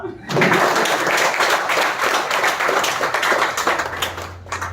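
An audience at a Hindi stage play breaks into sustained clapping for the cast member who played the thief, a dense, fairly loud patter that starts abruptly and continues throughout.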